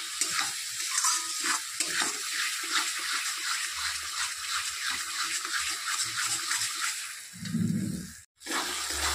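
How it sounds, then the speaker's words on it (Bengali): Spice paste of ground cashew and green chilli frying in a pan as it is stirred, a continuous close hiss with scraping strokes, followed by a brief low gurgle near the end, without talk. "আবারও ভালো করে সব কিছু ভাজতে হবে যতক্ষণ না দানা দানা থাকছে।"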